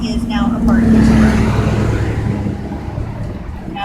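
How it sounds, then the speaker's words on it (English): Road traffic on a Hollywood street heard from inside a moving vehicle, with a steady engine and road rumble and cars passing close by. A voice talks over it throughout. "Now we're hitting traffic."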